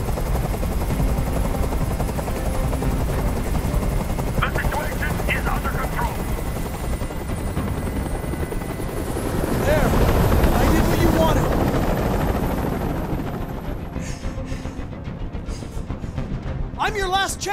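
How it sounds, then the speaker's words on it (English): A helicopter hovering in the video game Detroit: Become Human, its loud, continuous rotor drone filling the scene and swelling in the middle, with voices speaking faintly beneath it. "I can't stand that noise anymore. Tell that helicopter to get out of here."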